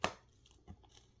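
A rusty, corroded screw is turned out of a SEGA Genesis Comix Zone cartridge with a 4.5 mm game bit, giving a sharp crunchy crack followed by a fainter grinding click, close and brief.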